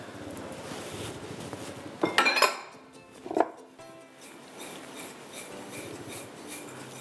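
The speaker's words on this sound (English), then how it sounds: "and then a good shot of coconut and just give it a mix" A spoon or utensil scrapes and clinks against a bowl while coconut and panko breadcrumbs are mixed, with two distinct bursts of rattling over soft background rustle.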